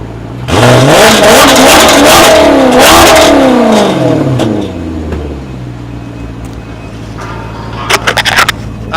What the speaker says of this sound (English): I'm going to go ahead and rev this engine for you, and you can hear how good this bad boy sounds